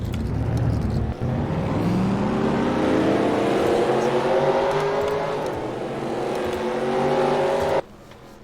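NASCAR race cars coming down pit road in a video game, several loud engines revving and whirring past one after another, with a rising pitch before cutting off near the end.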